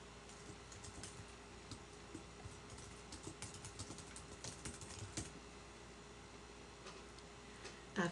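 A subject line is typed on a computer keyboard, with quiet, close, irregular key clicks in a quiet room and a sharper clack at the very end.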